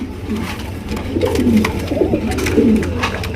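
Large pigeons, including a Maxi racer type, at a pigeon farm give repeated soft throaty coos, close and fairly loud over a low background hum.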